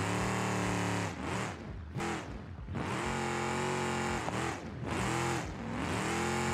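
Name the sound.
Ram TRX truck engine driving in the video game BeamNG.drive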